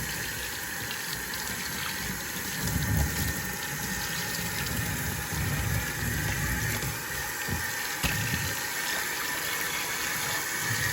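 Warm water runs steadily from the tap of an old sink while a shirt soaks, a constant hissing gush with occasional sloshing bumps, close and unbroken.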